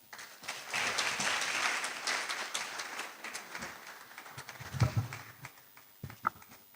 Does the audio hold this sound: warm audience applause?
yes